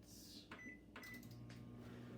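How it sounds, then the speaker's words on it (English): A microwave oven runs while cooking scrambled eggs in a lidded container. A steady low hum continues throughout, broken by a few soft clicks or knocks, with no talking. "you're going to put them in the microwave with the lid on"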